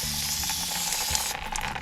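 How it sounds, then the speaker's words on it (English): Brake cleaner sprays from an aerosol can onto a Freightliner FL350R truck axle during U-joint removal, a loud, close, continuous hiss that lasts nearly two seconds before easing into shorter bursts. "we're going to just spray some brake cleanser on here"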